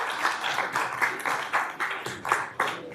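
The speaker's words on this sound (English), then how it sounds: "one more round of applause to our Greater Augusta Arts Council" An audience applauds the Greater Augusta Arts Council at a city commission budget session, producing steady, rhythmic clapping that fills the room for a few seconds.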